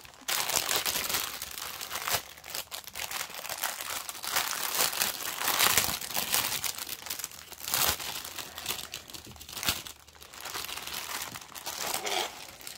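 Plastic packaging crinkles and rustles close by as a cross-stitch kit is opened, with continuous irregular crackling and occasional sharper crunches over several seconds, fairly quiet overall.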